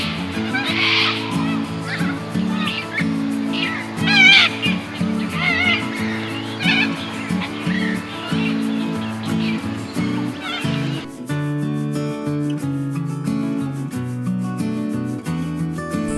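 Corellas screech and squawk in a tree above nesting egrets at a lake, a dense, loud chorus of harsh overlapping calls over a steady background murmur.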